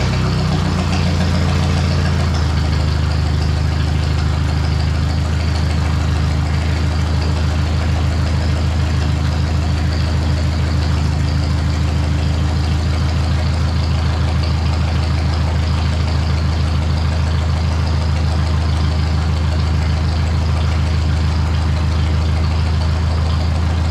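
Ford 641 tractor engine running after a carburetor repair, with a loud, close, steady idle that stays even and unbroken throughout and no voices.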